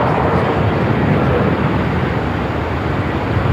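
Steady, loud broadband jet roar of a Qantas Boeing 787-9 airliner departing Melbourne Airport, a continuous rumble filling the whole stretch with no talk over it.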